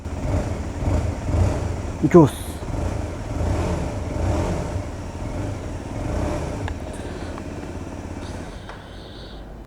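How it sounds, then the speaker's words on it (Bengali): A CF Moto NK 125 motorcycle engine runs with a low rumble and revs briefly, while someone talks over it; a short exclamation is heard. "বাইকের সাউন্ড কোয়ালিটিটাও যদি দেখাই একটু"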